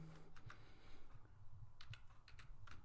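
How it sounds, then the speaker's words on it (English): Fingers typing a router configuration command on a computer keyboard: irregular bursts of crisp key clicks with short pauses, close and fairly quiet, with no talking. "So let me type here copy"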